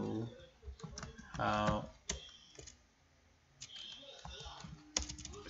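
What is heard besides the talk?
typing on a computer keyboard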